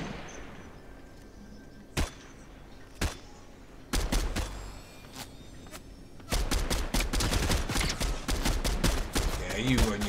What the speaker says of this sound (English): Someone else is trying to shoot me now.